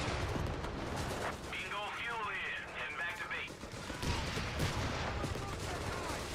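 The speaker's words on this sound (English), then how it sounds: "you get double machine guns shooting you" Rattling machine-gun bursts and scattered battlefield gunfire from Company of Heroes sit faintly in the background, with rapid repeated shots clustering near the end under a voice.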